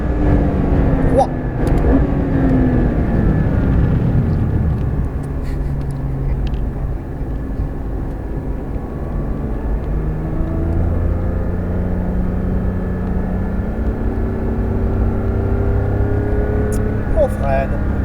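A Porsche 911 GT3 RS laps the Nogaro race circuit, its engine droning and rising and falling steadily through braking and acceleration, heard loudly from inside the car with a voice talking over it.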